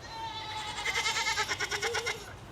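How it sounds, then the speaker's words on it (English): Several farm goats bleat together in a loud, wavering, near chorus that swells and pulses for a couple of seconds, with no talk over it. "The goats are singing you a song."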